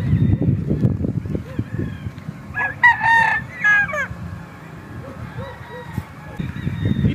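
A fighting rooster gives one loud, close crow, with low clucking and scattered bird calls around it, and someone talks intermittently.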